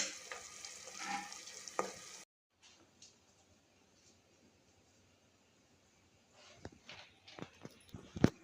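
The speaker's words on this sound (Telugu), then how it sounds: "మళ్ళీ ఒకసారి ఉల్లిగడ్డలను అయితే కలుపుకుందాం" Onions frying in a pan for a dried fish and tender tamarind leaf curry are stirred, giving a sizzling, scraping burst up front, then near quiet, then several sharp utensil clacks and stirs toward the end.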